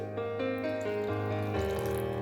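Water running steadily from a tap into a vessel while dahi kanji, a yogurt-based dish, is being prepared, a continuous close splashing flow with shifting pitch as the container fills.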